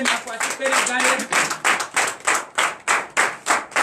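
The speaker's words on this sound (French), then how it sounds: "Donc je vous demande d'applaudir très fort." A church congregation at a Sunday worship service claps loudly in a steady, even rhythm, about three to four beats per second, with voices briefly audible beneath the opening claps.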